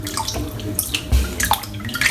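Water from a tap runs onto shaving soap, a close, steady splashing and trickling with small irregular drips and bursts throughout.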